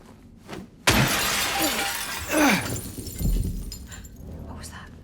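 Glass smashing in the Silent Hill 2 Remake video game, with a loud sudden shatter and a long tinkling spray of shards, followed by softer debris sounds, while voices talk over it.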